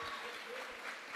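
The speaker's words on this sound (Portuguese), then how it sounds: "Receba o pastor Carlito mais uma vez com palmas." Church congregation clapping for a pastor at a missionary gathering, a short burst of dense, steady applause filling the room with no voices over it.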